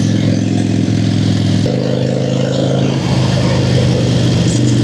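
A motorcycle with a 1200 conversion pulls away hard, its engine a loud, close, steady rumble that rises in pitch in stepped surges as it accelerates, with mechanical clatter and wind noise around it.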